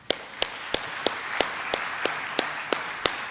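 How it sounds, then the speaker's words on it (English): A lone person claps steadily at an event, about eleven evenly spaced, crisp handclaps over a faint room hum, with no crowd joining in. "let us go ahead and raise our hands to applaud those 10 people"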